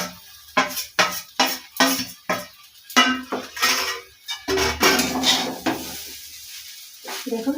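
Chow mein tossed with soy sauce and scrambled egg is served onto a plate, with close utensil scrapes and clinks against cookware in quick repeated strokes and a faint sizzle beneath.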